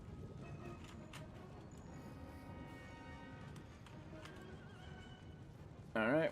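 Horses neigh and hooves clip-clop in an Empire Total War battle, faint and distant under ambient game noise, with a louder burst at the very end.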